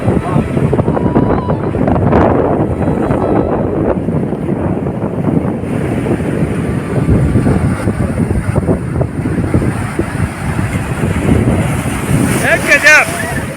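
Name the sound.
ocean waves crashing on Malpe beach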